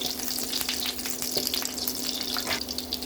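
A whole onion frying in hot oil in a pan gives a dense, steady sizzle with fine crackling and spitting throughout. Close and fairly loud, with no talking.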